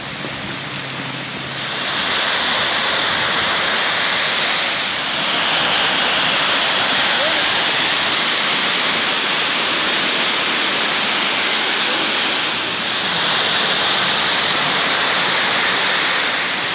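Rushing water from waterfalls in Lares, Puerto Rico, a loud, steady broadband roar that holds continuously for the whole stretch, swelling slightly in places, with no talk.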